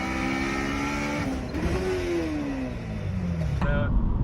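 The K20 engine of a 2008 Honda Civic Si revs high and loud, a steady harmonic whine that dips and climbs again, heard from inside the car with voices talking over it.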